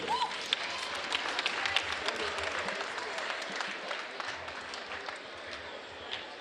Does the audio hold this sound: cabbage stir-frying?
no